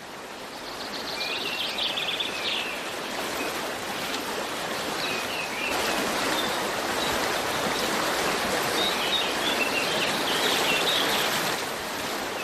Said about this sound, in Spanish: por donde discurre un pequeño arroyo de aguas claras y limpias